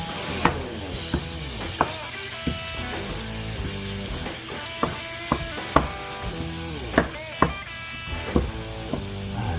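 About a pound and a half of ground beef with onions broken up and stirred in a frying pan, a sizzle under repeated sharp clacks of the utensil against the pan, close by, no talking.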